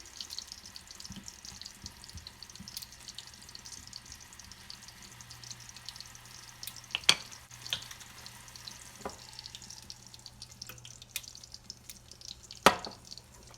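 Tomatoes fry in hot olive oil with a soft, steady sizzle, faint and close, broken by a few sharp clinks and scrapes of stirring.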